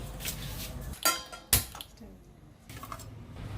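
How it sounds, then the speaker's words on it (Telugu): A kadai pan set down for cooking thotakura pesarapappu curry, giving two sharp metallic clanks close by, the second louder, amid light kitchen clatter. "ఇదిగా ముందులా బాండి పెట్టుకోవాలి"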